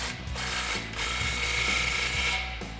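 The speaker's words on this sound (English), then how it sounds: "just zip it home just a little bit with that 13 mil socket" Ratchet with a 13 mm socket tightening an exhaust band clamp on a Roush single exhaust for a 6.2L Ford Raptor, a close, fast series of clicking strokes in a few quick bursts, with no talk.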